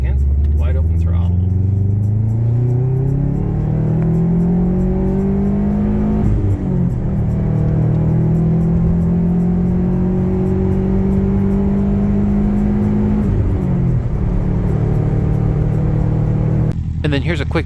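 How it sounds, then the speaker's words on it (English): A 2008 Subaru Forester XT Sports with a five-speed manual and a performance tune pulls hard at wide open throttle in second gear, engine note rising loudly in long sweeps with brief dips at shifts, a voice occasionally over it. "All right, so here's second. Wide open throttle."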